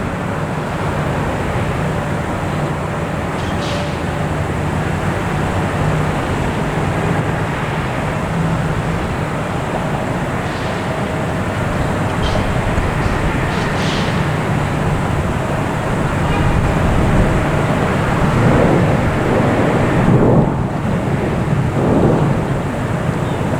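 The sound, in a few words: small airplane passing at Boston Logan Airport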